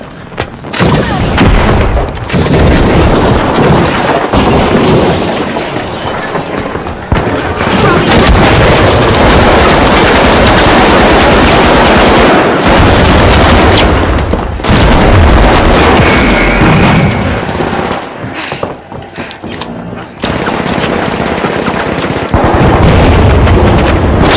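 Frag grenade blasts in the video game The Finals, part of a dense, loud run of booming explosions and gunfire that continues throughout, with brief quieter gaps.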